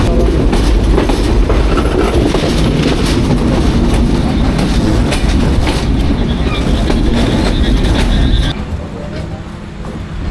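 The Jahanabad Express rumbles loudly close by as it arrives at Khulna railway station, its wheels clattering rhythmically for several seconds before the noise drops off, with voices faintly underneath.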